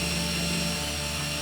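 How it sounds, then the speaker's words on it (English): Power drill boring pilot holes in wood for a DIY picture frame, a steady, continuous motor whine with even tone and no pauses or talk. "first we're going to be drilling pilot holes"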